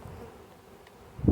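Honey bees from a swarm fanning at a ball field make a steady low buzzing hum, close and even, which swells louder in the final moment.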